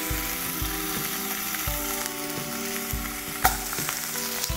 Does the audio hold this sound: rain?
no